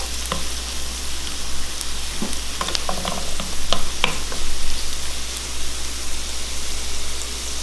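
Onions and green chilies sauté in a pan with a steady, close sizzle, broken by a series of sharp scraping stirs near the middle, with no voices.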